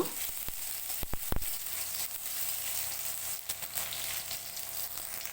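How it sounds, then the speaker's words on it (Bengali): Finely chopped onion with a dried red chilli and black cumin seeds sizzles steadily in a kadai, broken by a few sharp scraping knocks of a spatula early on, all close and without any talking. "মাঝারি সাইজের একটা পেঁয়াজ কুচি দিয়ে দেবো ভালো করে নেড়েচেড়ে পেঁয়াজ ভেজে নেব"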